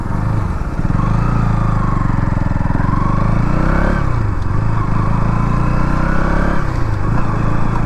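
A KTM Duke 200 motorcycle engine runs loud and close just after starting, idling steadily with a few rising and falling throttle swells and no talking.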